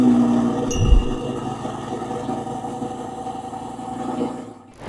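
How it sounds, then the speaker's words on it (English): A Lamborghini Huracan Evo Spider's engine runs with a steady, loud mechanical rumble and a brief rise near the start, easing off before a sudden cutoff at the end. "Next in line is Huracan Evo Spider."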